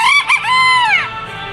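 A chicken crows in the Roblox game, one drawn-out, rising-then-falling cock-a-doodle-doo lasting about a second, loud and close, with no voice over it.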